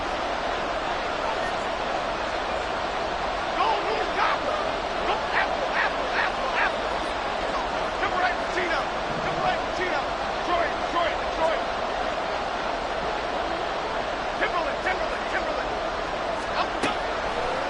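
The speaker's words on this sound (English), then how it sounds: "This crowd turning up the decibel level." A stadium crowd in an American football video game keeps up a steady, loud roar late in a close game, while a commentator's voice talks over it.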